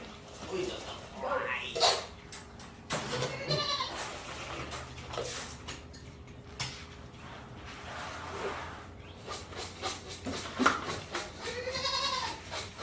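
Goats bleat repeatedly on a farm, several loud, wavering cries near and farther off, spread across the stretch with short gaps between them, and a person speaks briefly amid the calls.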